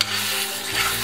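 Boiled pasta horns stirred in a frying pan with liver, onion and carrot, giving a soft continuous scraping and sizzling swish, close and steady with no talk.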